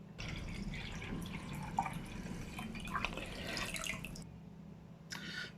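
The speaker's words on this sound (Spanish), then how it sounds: "procedemos a verter una cantidad generosa de agua en el recipiente" Water poured steadily into a container on a scale during a physics class experiment on Archimedes' principle, a continuous trickling splash with small drips that stops near the end, fairly quiet and with no talking.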